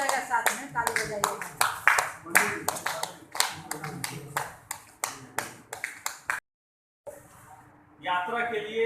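An audience at a Giridih community event claps in quick, uneven bursts, close and loud, then drops to brief silence before crowd murmur and talk take over.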